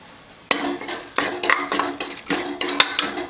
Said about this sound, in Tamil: உப்பு போட்டு நல்லா கலக்கிடுங்க